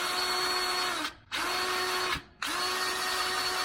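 A grease gun drives grease into a fitting on a John Deere 855 compact tractor, giving a steady, loud mechanical whir that stops briefly twice before running on.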